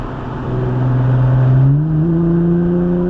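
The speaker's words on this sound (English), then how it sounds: "And then let the car drift all the way to the right." Car engine at a high-performance driving event on an autocross-style course, loud and close, droning steadily then climbing in pitch as it revs up through a gear, with no talk.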